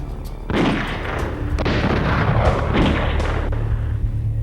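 Gunshots in a Poser-animated movie: several loud booming reports, spaced a second or so apart, each with a heavy rumbling decay.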